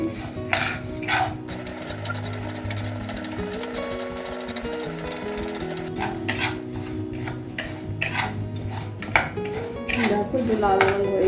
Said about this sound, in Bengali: ডালটা শুকনো খোলায় ভেজে নিচ্ছি, অল্প ভাবে একটু ভেজে নিচ্ছি